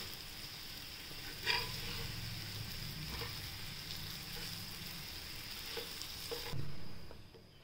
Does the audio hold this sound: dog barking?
no